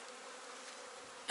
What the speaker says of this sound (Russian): пчелки будут заняты.